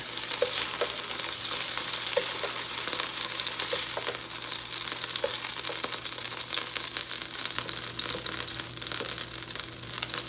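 Chicken pieces fry in a hot pan with a steady, dense sizzle running throughout, close and continuous, with occasional small pops and stirring sounds and no talking.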